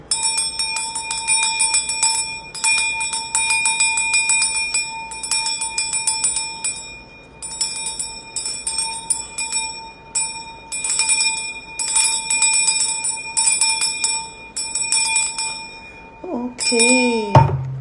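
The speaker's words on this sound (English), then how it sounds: "We'll start with sound clearing with my mother Oshun's bell in 3," A small hand bell rings repeatedly in bright, sustained shimmering bursts, close and alone with no talking, used for a sound clearing and ending with a brief low thud.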